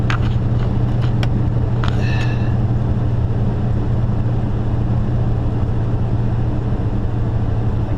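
A vehicle engine idles steadily right after starting up, a constant low drone running the whole time with a few faint clicks and taps near the start.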